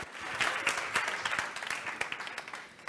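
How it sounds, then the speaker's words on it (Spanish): Audience applause closing an educational talk in a lecture hall, a soft, somewhat distant patter of many clapping hands with occasional sharper claps, no voices. "Un aplauso."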